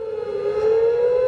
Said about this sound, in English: Also, sirens are going off in certain cities.